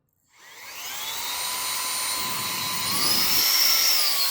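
A Fanttik X100 cordless handheld vacuum runs as a blower with its filter removed, giving a loud, steady high-pitched motor whine and rushing airflow that starts abruptly and rises slightly in pitch toward the end.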